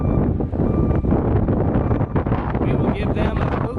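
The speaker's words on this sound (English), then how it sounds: "Oh, here comes that wind again." Strong wind buffets the microphone in a steady, loud rumble outside a federal courthouse in Nashville, Tennessee, with faint sounds beneath.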